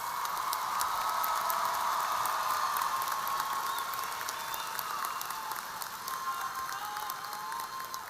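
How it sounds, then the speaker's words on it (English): A high school graduation crowd applauds its honor graduates with sustained, dense clapping that fills the hall. It fades slightly toward the end. "Please give a round of applause for our distinguished honor graduates."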